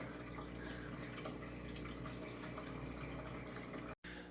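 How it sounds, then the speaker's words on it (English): Tap water runs steadily to refill a fish tank back to its proper depth, a continuous near hiss and splash that cuts out for a moment near the end. "Let's turn the water back on and get it back up to where the depth is supposed to be."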